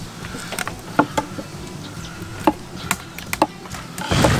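A knife chops and taps against a cutting board while trimming an aged pork trotter, scattered, sharp knocks, close and fairly clear, with no one speaking.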